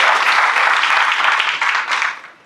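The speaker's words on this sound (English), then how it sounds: "I actually would say a round of applause for Ruby for that" A crowd applauds steadily for a couple of seconds, a dense wash of clapping that fades out at the end.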